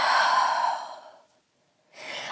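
A long, audible exhale during a yoga flow, a close breathy sigh that fades into silence before another breath begins.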